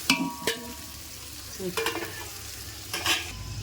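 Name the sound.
fennel, cardamom and star anise frying in hot oil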